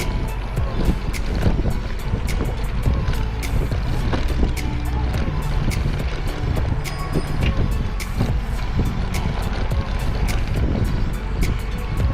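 Steady wind rush buffets the microphone while cycling in Pittsburgh, with a low rumble and occasional clicks, loud and constant from start to finish.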